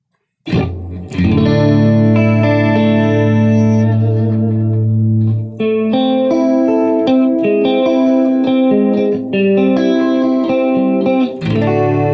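Electric guitar with a heavy reverb wash: a sustained low chord rings out, followed by a run of notes that blur and trail into echoing tails.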